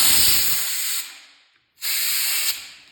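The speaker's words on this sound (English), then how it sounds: "let's spray a little carb cleaner in there" Two hissing bursts of carb cleaner spray into a pressure washer carburetor, each loud and steady for about a second before fading, separated by a brief silence.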